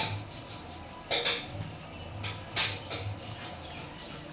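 Ladle scraping and clinking against a pot while serving cooked milk payasam with sago and vermicelli, two soft metallic scrapes over a low steady background hum, with no talk.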